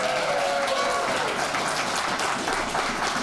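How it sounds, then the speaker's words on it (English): A crowd at a Revolutionary War history exhibit opening reception claps for introduced staff, a steady, even spread of hands clapping throughout, with a voice faintly audible near the start. "Yeah, you can clap."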